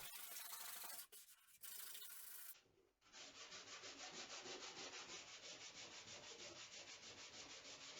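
Steady back-and-forth rubbing of sandpaper on wood, a rhythmic scratchy hiss with a couple of short pauses before settling into an even pace.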